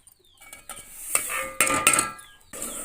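Sesame seeds being stirred into thick jaggery syrup in a pan off the heat, a spoon scraping and clinking against the metal in irregular close strokes, with no voices.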